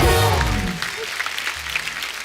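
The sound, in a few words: studio audience applause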